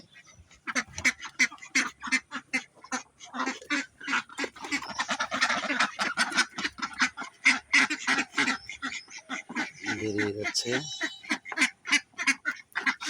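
Flock of about a hundred and twenty farm ducks by a riverside in rural Bangladesh, quacking in a dense, continuous chorus of rapid overlapping calls, close and loud, with a person speaking briefly amid them.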